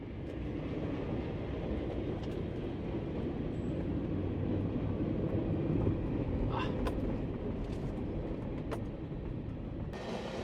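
Freight train 452 arriving at the Mickler Road crossing: a steady, loud rumble of rolling cars fills the whole stretch, with a few brief high squeals or horn-like tones near the middle.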